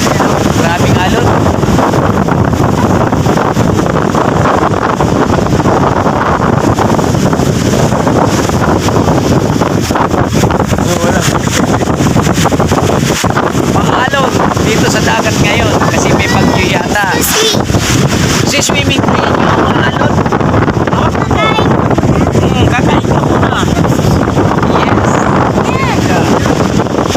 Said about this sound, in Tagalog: Maraming alon.